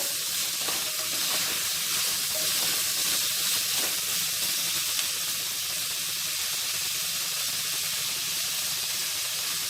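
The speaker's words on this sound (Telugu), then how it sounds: "ఇప్పుడు బంగాళాదుంప ముక్కల్ని ఈ ఉల్లిపాయలతో పాటు మనము బాగా ఫ్రై చేసుకుంటే కర్రీ మంచి టేస్ట్ ఉంటుంది" Potato pieces fry with onions in a pan for a potato-tomato curry, giving a loud, steady sizzle and hiss that runs unbroken and close throughout, with no voices.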